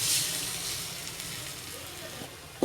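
Eggs frying with onions and spices in a pan, giving a steady soft sizzle and hiss throughout, with a small clink near the end.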